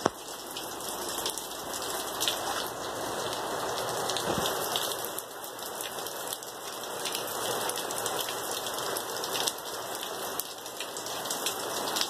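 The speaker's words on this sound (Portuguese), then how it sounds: "Olha a chuva." Steady rain pours down on a dark, stormy day, a dense, even hiss of drops striking surfaces nearby, with occasional sharper patters and no talking.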